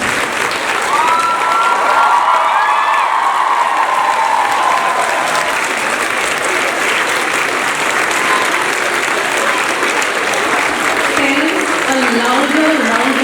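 A packed school annual-day audience gives teachers and staff a long, loud round of applause, continuous dense clapping with crowd noise and some voices heard through it.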